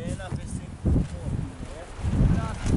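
Strong wind gusts buffet the microphone in surging waves under someone talking, with roaring low rumbles that swell and fade several times.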